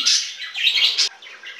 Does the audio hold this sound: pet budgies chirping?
yes